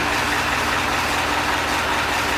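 The engine of an amphibious Ford tractor runs at a steady idle, a continuous low rumble close by with no voices.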